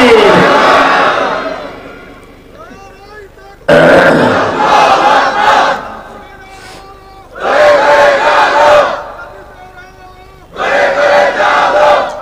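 A large seated crowd roars a takbir chant in answer to a preacher at a Bangladeshi religious gathering, four loud, massed bursts of shouting separated by short pauses.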